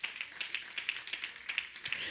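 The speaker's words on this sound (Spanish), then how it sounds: "Den un aplauso al Señor en esta mañana" A church congregation claps faintly in a steady, even rhythm, with soft, distant claps following each other at a regular pace.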